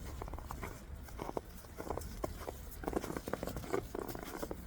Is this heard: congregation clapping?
no